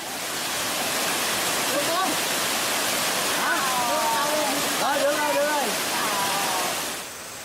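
Steady roaring rush of a waterfall more than 45 meters high near Dalat, Vietnam fills the scene, with voices talking faintly over the constant flow of water.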